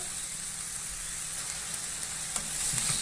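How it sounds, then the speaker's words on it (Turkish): Leeks sautéing in a pan give a steady, soft sizzle and frying hiss throughout, with a few faint stirring knocks near the end and no talk. "Şimdi güzelce kavrulacak arkadaşlar."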